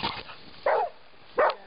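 A trained dog barks twice during a training session, each bark short, loud and close, with a pause between them and quiet surroundings otherwise.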